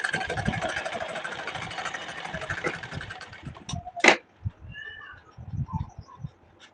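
A sewing machine runs steadily as it stitches a double seam across a pleat on a blouse, a continuous mechanical whir for about three seconds, then stops, followed by a sharp click and a few soft handling knocks.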